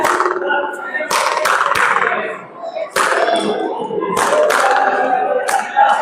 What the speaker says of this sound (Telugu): ఇక్కడ నిలబడి క్లాప్స్ కొడితే మొత్తం పైన కీలకి నేను మాట్లాడితే కూడా రీసౌండ్ వినపడుతుంది నాకు